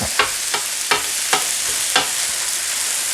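Cheesesteak meat frying on a greasy griddle is chopped with metal spatulas, giving five sharp scraping clacks at a steady rhythm over a constant loud sizzle.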